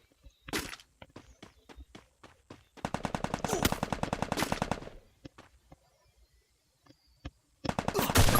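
Gunfire in the mobile shooter game Free Fire: a few single shots, then a long rapid automatic burst, scattered shots and another burst at the end, loud and close.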